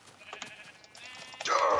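A Minecraft sheep gives a couple of quick bleats followed by a louder, wavering bleat near the end, with faint background sounds between.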